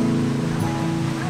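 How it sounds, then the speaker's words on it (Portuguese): A large, tall waterfall, Cascata do Chuvisqueiro in Riozinho, Rio Grande do Sul, running with plenty of water, roars as a steady, loud broadband rush that fills the whole short stretch. "Que cachoeirão!"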